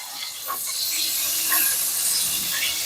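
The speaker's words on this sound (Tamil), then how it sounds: "நம்ம சட்டில் எண்ணெய் போட்டாச்சு, எண்ணெய் நல்லா காயட்டும்." Oil heats in a pan for a spicy fish curry while cooking in a room, giving a steady, close hiss and faint sizzle with no talk.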